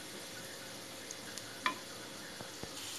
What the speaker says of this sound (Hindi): अब इन्हें गोल्डन ब्राउन होने तक सेक लेंगे।